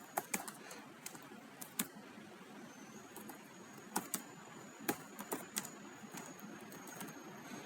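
Computer keyboard keys are typed in short irregular bursts of sharp clicks while entering date variable code in Excel VBA, fairly faint against a low background hum, with no talking.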